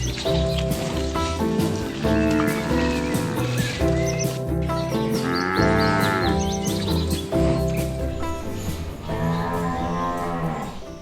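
Wagyu cattle mooing on a large farm, several drawn-out calls rising over a dense, steady background of other sounds, with faint bird chirps mixed in.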